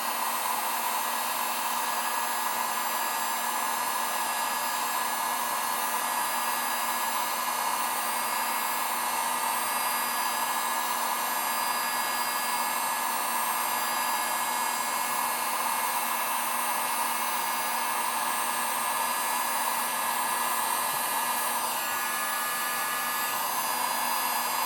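A heat gun running on high, heating the crankcase of a Farmertec Stihl MS660 clone chainsaw, gives off a steady, loud blowing whir with a constant tone that holds unchanged throughout, with no voices.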